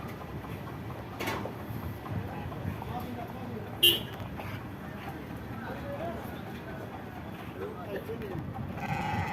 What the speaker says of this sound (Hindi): ये बकरे तो नहीं हैं, इनको भेड़ें कह सकते हैं, बाहर से मुल्कों से आई होती भेड़ें होती हैं ये